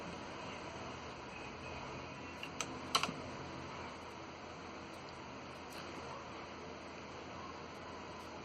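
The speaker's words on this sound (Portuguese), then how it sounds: "Então eu vou digitar aqui paz e segurança," Typing on a computer keyboard, faint and distant clicks with a brief cluster of sharper key taps midway, over a steady background hiss.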